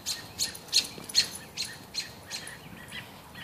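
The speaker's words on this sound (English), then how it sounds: "Birds are going crazy" Birds chirping and calling busily outdoors in a backyard, a series of sharp bright tweets arriving in quick bursts, fairly close, with no talk.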